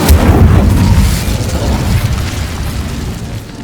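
Incendio fire spell cast in Hogwarts Legacy, a loud booming burst of flame that erupts at once and then rumbles and crackles as it slowly fades.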